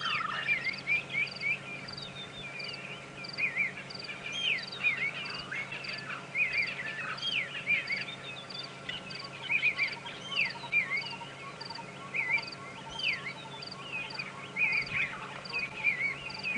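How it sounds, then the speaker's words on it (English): A dawn bird chorus at sunrise on an African safari drive, with repeated bright calls and chirps from several birds, some near and some distant, over a low steady hum. "all the birds are just starting to wake up"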